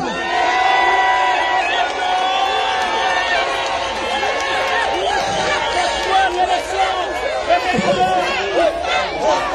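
A large crowd gives an ovation for the founder, a sustained roar of cheering, shouting and chanting voices, steady and loud throughout with scattered whistles and yells.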